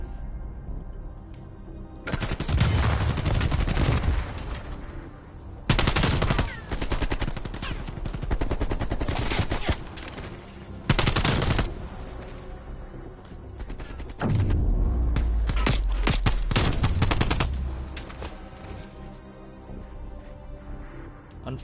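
Sustained bursts of rapid automatic gunfire and heavy shooting in a Call of Duty match during a competitive CDL esports game, loud and dense, coming in several long volleys separated by short lulls.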